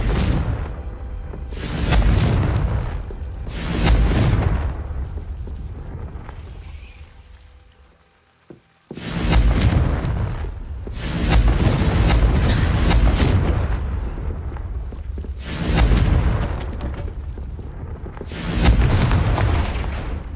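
Loud, deep explosive blasts from the Confringo fire spell in the Hogwarts Legacy video game, several booming bursts with rumbling tails spaced a couple of seconds apart, with a short quiet gap partway through and no speech.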